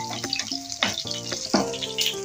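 Lentil and shrimp dumplings fry in hot oil, a close bubbling sizzle heard beneath tonal background music in a short burst.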